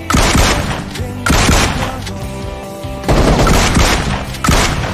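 Gunfire in the mobile shooter Game for Peace, with a DBS shotgun among the weapons, sounds as loud repeated blasts in bursts with thumping booms, some synthetic tones and faint voice beneath.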